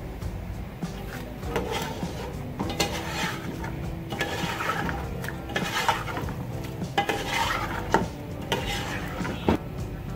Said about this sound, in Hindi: साथ ही हम इसमें ऐड करेंगे गोश्त। गोश्त को हमने इसी स्टेज पे आके भूनना है।